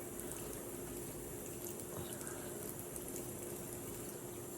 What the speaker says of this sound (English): I rinse off my hands and I add some water to emulsify the cleanser.